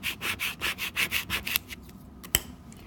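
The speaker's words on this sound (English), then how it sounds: "I'm going to rub it down until the entire butterfly is dark" Rhythmic rubbing strokes burnish down a two-tone butterfly transfer, about nine even swishes close up, then a few lighter rubs and a single sharp tap at the end.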